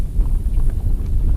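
Wind buffets the microphone on a bass-fishing outing, a loud, continuous low rumble with gusty swells and no clear breaks.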